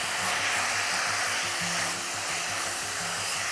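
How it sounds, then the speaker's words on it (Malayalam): Tomatoes and okra sauté in oil, a steady broadband sizzle that stays constant and close for a few seconds, with faint low clatter beneath and no talk. "ഇത് തക്കാളിക്ക, വെണ്ടയ്ക്ക, ഇത് രണ്ടും കൂടി ഒന്ന് വഴറ്റണം എണ്ണയിൽ."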